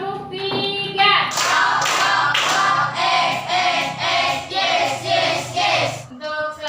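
A classroom of children clapping together in a steady rhythm, a run of loud, evenly spaced group claps that stops abruptly.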